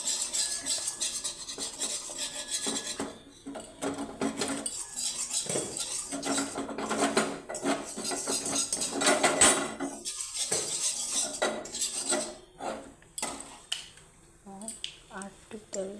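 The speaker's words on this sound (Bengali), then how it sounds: "তেলটা গরম হতে দিয়ে দিয়েছি এবং এবার দেব ময়দা" Flour being stirred into hot oil in a pan for white sauce pasta, with a utensil scraping and clinking steadily against the metal in close, busy, continuous strokes, with a few short pauses.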